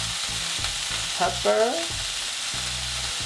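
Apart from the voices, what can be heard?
beef burger patty frying in a pan after flipping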